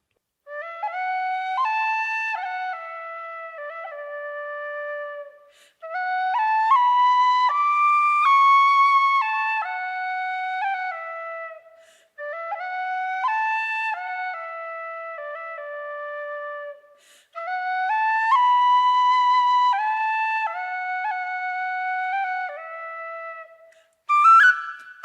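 A tin whistle plays a bright, clear melody in four long phrases separated by short pauses, loud and close with no talking.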